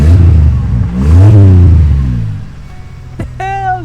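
A modified car engine revs hard through an aftermarket exhaust, a loud rising and falling roar up close that fades to a low idle before a short voice and clatter at the end.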